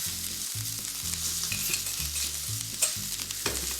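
Brussels sprouts and sea scallops sizzle in hot oil in a pan, a constant frying hiss broken by repeated rhythmic scraping and clunking as the pieces are stirred and turned over, close and moderately loud.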